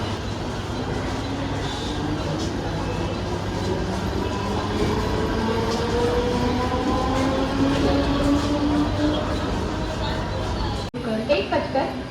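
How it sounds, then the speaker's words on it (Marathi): A Mumbai suburban Harbour line local train at Mankhurd station, platform 2, rumbles steadily and close for about eleven seconds with a rising, gliding whine. Voices murmur faintly in the background before the sound cuts abruptly near the end. "प्लॅटफॉर्म क्रमांक 2 वर आलेली लोकल"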